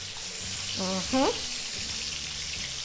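Butter melting in a hot pan for chicken Alfredo sends up a steady close sizzle, with a short voiced sound briefly rising over it near the middle.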